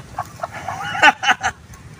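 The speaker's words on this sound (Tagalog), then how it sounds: "Kawawa naman yung manok na to." A rain-soaked, shivering chicken clucks in a few quick, close bursts over a low background murmur.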